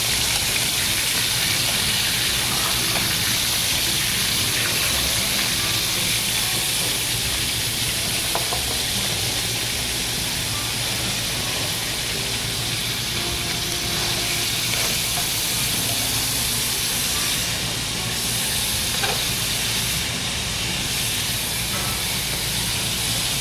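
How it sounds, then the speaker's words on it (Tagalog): Beef ribs pan-fry to a brown crust for coconut-milk adobo, giving a steady, fairly loud hiss and sizzle that runs unbroken throughout with only faint kitchen clatter. "We're just pan-frying to give a brown crust to the beef"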